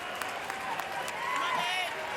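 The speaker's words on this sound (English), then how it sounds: "Mom and Dad checking out their son at the plate, cheering him on" A crowd at an LSU vs UCLA College World Series baseball game cheers and claps for a batter, a distant, fairly faint wash of applause under a broadcaster's voice.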